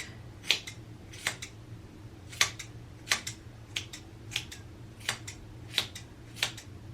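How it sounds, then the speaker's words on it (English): Scissors snipping through hair at a diagonal, about nine crisp, close cuts in a fairly even rhythm over a quiet background hum, with no talking. "Hold it there, and then diagonally cut."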